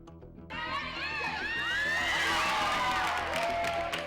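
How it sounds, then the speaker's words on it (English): A crowd at a youth summer basketball league game cheers and whoops loudly, with high children's shouts rising out of a dense swell of voices that starts abruptly and holds for a few seconds. "Cheers from the crowd, combined with the fancy footwork of the players, kicked off the 2007 Co-Ed Summer Youth Basketball League."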